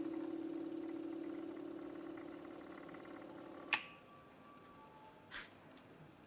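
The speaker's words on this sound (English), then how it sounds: "And I'm going to activate the pump." The small pump of a digital automotive pressure tester hums steadily at a low pitch, then cuts off with a click, followed by a couple of faint taps in the quiet.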